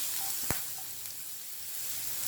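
Garlic, ginger, green chilli and onion sauté in hot oil for a beef spring roll filling, a steady soft sizzle with one sharp clack partway through.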